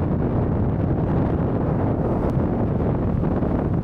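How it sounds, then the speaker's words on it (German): Strong wind buffets the microphone on an e-bike ride in open country, a steady loud rumble that fills the whole clip with no voice over it. "Oh, ganz schön windig."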